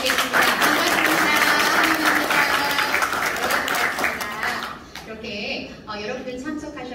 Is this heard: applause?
yes